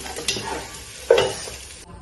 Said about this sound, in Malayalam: സോയാബീന് ഇട്ട് കൊടുക്കട്ടാ. ചട്ടിയൊക്കെ ചൂടായി വന്ന് നന്നായി ഒന്ന് പൊരിച്ചെടുക്കണം.